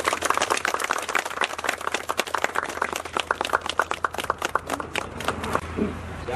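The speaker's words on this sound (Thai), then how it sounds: "ปรบมือครับ" A small group claps in quick, uneven bursts at a Thai community development outing, sharp distinct hand claps close by, thinning out toward the end.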